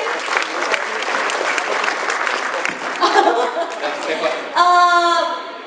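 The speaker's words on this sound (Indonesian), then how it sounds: "Applause buat Mrs. Jun Chin." An indoor audience claps steadily for a guest at a gathering, dense applause swelling near the end, with a few voices and a chuckle mixed in and a brief tonal sound rising over the clapping.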